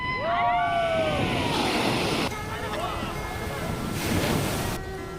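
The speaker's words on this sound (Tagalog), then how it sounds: "Yung dagat na tumatalsik?" Sea waves splash and surge at Laswitan Beach in Surigao del Sur, a loud rushing wash of surf with a few high whistling sounds at the start and wind noise over it.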